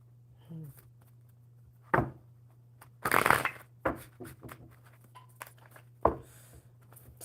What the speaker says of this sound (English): another super good shuffle for you